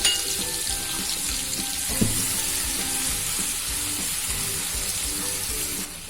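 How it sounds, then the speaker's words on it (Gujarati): Chopped green onions sauté in oil in a pan for pav bhaji, giving a steady broadband sizzle throughout, with a few soft clinks of stirring and one sharper knock near the middle. "આપણે ડુંગળી એકદમ આછો ગુલાબી કલરની સાતળી લેવાની છે."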